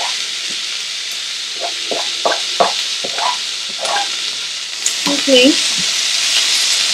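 Finely chopped tomato sizzles steadily with caramelized browned onions in a pan for prawn vindaloo. Close, bright frying hiss runs throughout, with a series of soft spoon taps and scrapes as it is stirred, and a brief spoken word.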